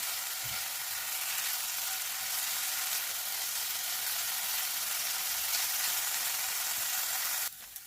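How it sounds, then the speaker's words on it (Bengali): Paneer pieces with a little turmeric and salt fry lightly in a pan, making a steady, bright sizzle up close that carries on evenly and then cuts out sharply just before the end. "বেশি ভাজার দরকার নেই, হালকা করে ভাজলেই হবে।"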